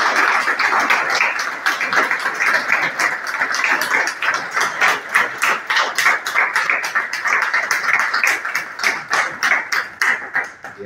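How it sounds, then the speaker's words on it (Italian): Applause fills a church at an Italian religious profession ceremony, a steady patter of many hands clapping for about eleven seconds, lively and close, with bursts that swell and ease. "E facciamo a Suor Dora un bel applauso."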